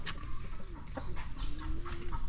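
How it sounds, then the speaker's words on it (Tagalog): Brooding hens on a rural farm give low, drawn-out clucks and soft grumbling calls nearby, steady and close against a noisy background. "Mga manok na nagalimlim. Marami-raming manok ngayon nagalimlim."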